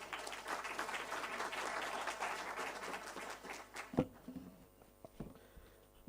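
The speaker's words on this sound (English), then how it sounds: "A big round of applause for him, please." Loud, dense applause from a crowd fills the first four seconds, then fades to a few scattered claps and faint room noise.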